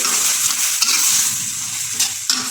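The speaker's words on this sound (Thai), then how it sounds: "นี่นะครับผัด ผัดพริกผัดพริก" Chilies stir-fried in a pan while cooking a Thai meal, a steady loud sizzle with scraping stirs and a few sharper clinks of the utensil against the pan, heard alone without talk.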